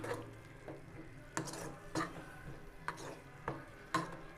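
Greens cook in coconut milk in a pot, giving a faint low bubbling while a spoon taps and scrapes the pot a handful of times at irregular intervals.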